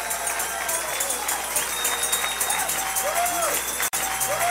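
Steady applause from a worship congregation, continuous broadband clapping under sung praise with a brief break near the end.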